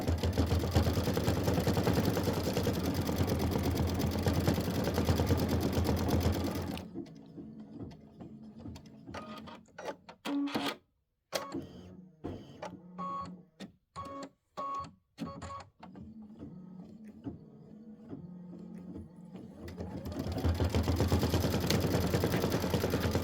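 Embroidery machine stitching a snowman quilt block, a steady dense mechanical whirr that breaks midway into rapid stop-start bursts and short pauses before the continuous stitching resumes.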